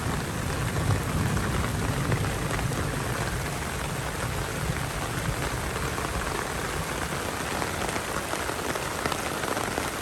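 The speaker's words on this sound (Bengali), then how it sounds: "বৃষ্টি শুরু হয়ে গেছে।" Heavy Kalbaishakhi storm rain pours onto surfaces around an outdoor cooking spot, a dense, loud, unbroken hiss that stays constant throughout with no voices.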